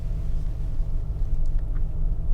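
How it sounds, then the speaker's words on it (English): Mercedes G500 AMG with a 4-liter V8 rumbles at a low, steady idle or cruise, a deep continuous hum close by with no talking. "It is a 4-liter V8 and yes, it sounds amazing."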